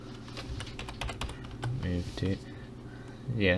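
Keystrokes clatter on a computer keyboard while someone builds an Unreal Engine 4 NPC setup, a quick run of close taps in the first second and a half followed by scattered clicks amid faint background noise.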